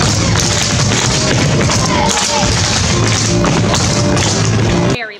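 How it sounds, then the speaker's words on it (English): Many metal-tapped tap shoes hammering a wooden theatre floor at once, a loud, continuous rattling clatter that cuts off sharply at the end. "there are just too many metal shoes on the floor"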